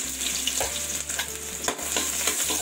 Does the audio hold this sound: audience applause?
no